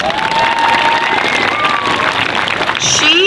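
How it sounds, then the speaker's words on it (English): A school audience applauds a teacher retiring after 25 years, dense, loud clapping mixed with cheers and children's shouts, continuous throughout. "So please give her a big round of applause."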